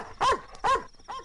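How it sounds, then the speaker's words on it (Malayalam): Three sharp dog barks burst out in quick succession, each loud and close, with short pauses between them and no talking over them. "പട്ടിയുടെ കുറയല്ലേ കേട്ടത്?"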